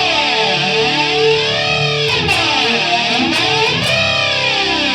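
A heavily distorted, effects-laden guitar tone from a Boss ME-70 multi-effects pedal, with sweeping, swirling modulation, loud and continuous, plus a few brief bright spikes.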